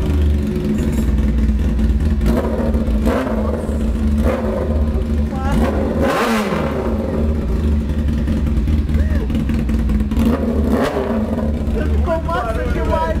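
Carbureted Honda Hornet motorcycle with a sport exhaust, running loud and close with a steady engine rumble and several sharp revs, one big rev near the middle, while people talk over it.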